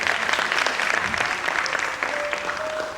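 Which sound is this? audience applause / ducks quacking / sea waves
audience applause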